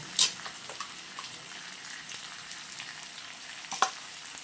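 Turmeric and mustard-poppy paste going into a hilsa fish curry frying in a pan, a low steady sizzle with a couple of sharp utensil clinks, close and without talk.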